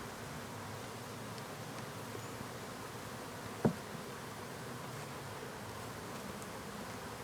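Bees hum around an empty hive as a soft, steady drone, faint and continuous, with one brief knock near the middle and no talking.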